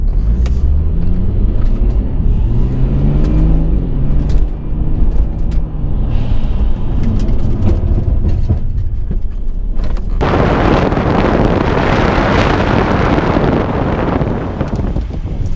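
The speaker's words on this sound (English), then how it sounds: "we're just gonna get up to 80k's and we'll jump on the anchors and we'll see how well it pulls up" A car on a gravel road accelerates up to 80 km/h, its engine tone rising under heavy wind buffeting, then brakes hard with a new EBC brake kit, bringing a sudden loud broadband roar of rushing noise and gravel.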